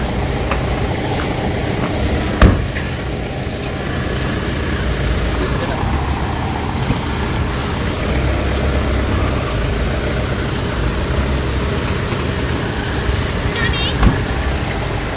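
Busy road traffic with trucks and buses makes a steady, dense rumble, with brief sharp bursts near the start and near the end. People talk over the traffic throughout.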